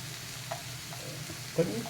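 Carrots fry in a pan with a soft, steady sizzle while a utensil stirs them, giving a few faint scraping clicks near the end, quiet and close.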